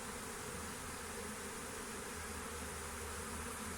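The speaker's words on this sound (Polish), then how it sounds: "Udało nam się wrzucić pszczółki do środka." A honeybee swarm buzzes as the bees move into a swarm-catching box, a dense, continuous, fairly quiet drone of many insects with no pauses or voices.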